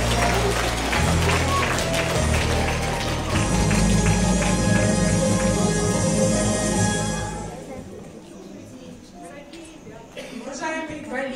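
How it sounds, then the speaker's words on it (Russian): An audience at a primary school graduation ceremony in Anadyr applauds, with dense, loud clapping that holds for several seconds and then fades as a voice starts speaking. "Встречаем бурными аплодисментами"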